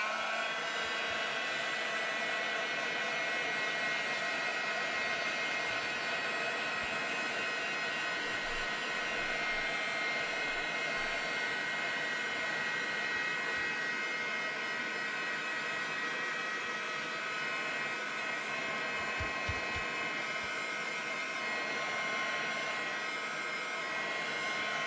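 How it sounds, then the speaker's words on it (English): A crafting heat tool blows steadily for nearly half a minute, a loud, close, continuous airy whoosh with a constant motor whine and no talking over it. "I'm going to bring up my heat tool for a minute"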